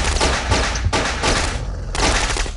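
Rapid Uzi fire in the browser shooter game Boxhead 2, dense continuous bursts of gunshots broken by two brief gaps, loud and close with no talk over it.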